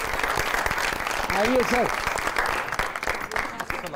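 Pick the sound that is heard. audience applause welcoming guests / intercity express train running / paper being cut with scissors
audience applause welcoming guests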